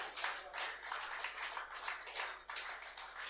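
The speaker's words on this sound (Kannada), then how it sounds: "ಜೋರಾಗಿ ಚಪ್ಪಾಳೆ ತಟ್ಟೋಣ." An audience applauds after a story about shepherds: a dense, steady patter of many hands clapping without pause, moderately distant and fairly soft.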